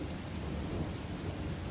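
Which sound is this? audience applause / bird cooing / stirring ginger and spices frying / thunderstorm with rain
thunderstorm with rain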